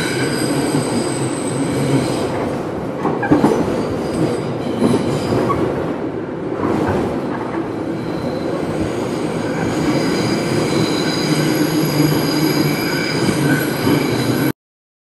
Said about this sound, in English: That train ride was so fast and it made all of us dizzy.